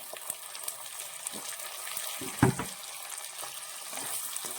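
Chopped tomatoes and green chillies for a tomato fish curry sauté in a pan with a soft, steady sizzle, broken once midway by a brief clatter of a spoon or pan. No voices.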